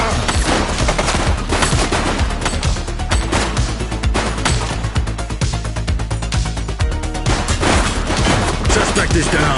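Rapid bursts of automatic gunfire and repeated loud shots fill a police shooter game on PS5 Pro, dense and continuous with brief lulls, while voices call out over the shooting.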